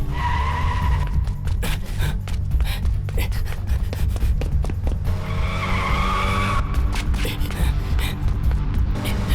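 Car tires squeal and skid as a vehicle speeds away in an action film chase, loud and sustained with engine roar and brief gasps.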